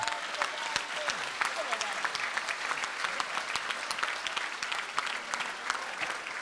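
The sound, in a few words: audience applause at party rally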